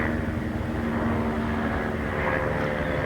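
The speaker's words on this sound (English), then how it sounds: "now we've got a sound of a helicopter" A helicopter passing over the River Thames on the main route into London, a steady, loud drone of rotor and engine that holds throughout, with no speech.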